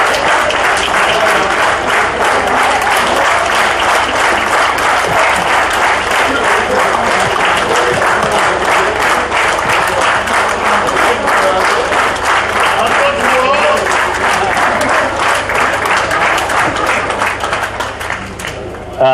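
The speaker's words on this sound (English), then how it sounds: "A big round of applause." A large audience at an Indian Medical Association oath-taking ceremony claps loudly and continuously for the outgoing and incoming presidents, a thick, even roar of hands that tapers slightly at the very end.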